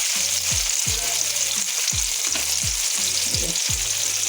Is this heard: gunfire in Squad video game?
no